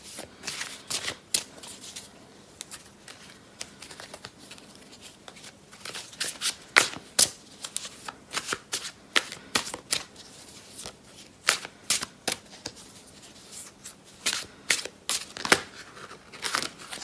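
Tarot cards being shuffled by hand in a quiet room, a continuous run of crisp riffling and flicking bursts with soft papery slaps, close and alone with no talk.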